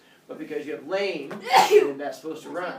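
A single sharp sneeze bursts out in the middle of a man's ongoing speech during a poetry lesson, loud and close.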